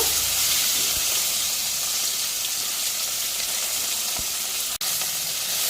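Small sarpunti fish frying in hot oil in a home kitchen for a Bengali fish curry, a steady loud sizzle that runs continuously with a brief dropout near the end.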